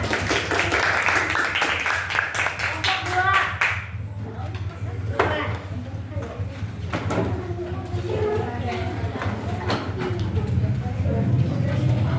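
Classmates applaud after a group presentation, a burst of brisk clapping that lasts a few seconds and then stops abruptly, followed by people talking over a low hum.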